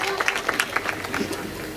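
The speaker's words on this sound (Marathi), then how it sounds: "टाळ्या वाजवा" Audience clapping at a Marathi kirtan-style devotional gathering, a short burst of scattered applause from a seated crowd, fairly close and steady with individual claps standing out, no voices over it.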